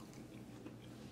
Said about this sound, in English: But this is a lot of chewing.